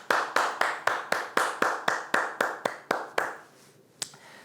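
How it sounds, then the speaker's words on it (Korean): A church congregation claps in quick, steady unison during a Sunday worship service, about a dozen sharp, loud claps in even rhythm that stop abruptly, followed by a single stray clap in a quiet room. "박수 올려드립시다."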